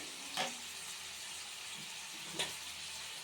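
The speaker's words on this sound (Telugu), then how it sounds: "కొంచెం కరివేపాకు వేస్తున్నాను" Curry leaves sizzle as they drop into chicken liver frying in a pan, a steady low crackle with a few brief sharp spurts as more leaves hit the oil, fairly quiet and close.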